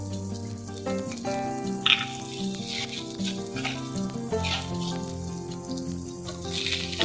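Onion and mushrooms frying together in a pan for risotto, a steady sizzle running throughout with some stirring and clinks, no talk.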